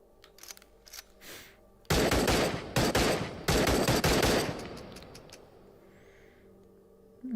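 A gun in Into the Radius empties a full magazine, a loud burst of rapid automatic fire lasting a few seconds with brief breaks, after faint handling clicks and before a quiet, fading tail.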